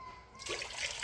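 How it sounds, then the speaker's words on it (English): Vinegar pours into a pot for canning dill pickles, making a faint, brief splash of liquid that swells partway through. "Our vinegar is poured in there."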